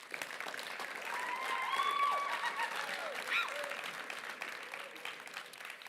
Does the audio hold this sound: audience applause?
yes